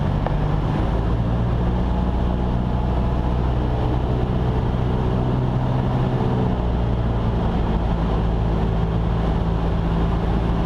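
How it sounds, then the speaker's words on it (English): A light aircraft engine drones steadily during a descent, a constant low rumble with wind noise heard from inside the cabin, no clear changes throughout. "And every 500 feet or so on the descent, just warm the engine."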